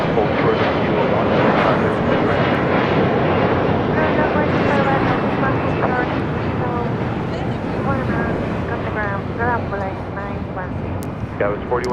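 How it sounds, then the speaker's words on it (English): An E-Jet airliner takes off on runway 25 right at LAX, a loud, continuous roaring rumble that holds for the whole stretch, with talk over it. "E-Jet now taking off, 25 right"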